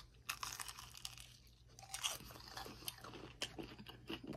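Crunchy fried chicken leg with extra-crispy coating bitten and chewed close up, a series of quiet crackling crunches and chewing sounds at irregular intervals.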